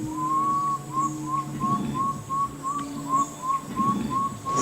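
A person whistling to imitate a water bird call to lure wolffish on a jungle river, a steady series of short, even, clear whistled notes repeating in rhythm, close and prominent over faint outdoor background.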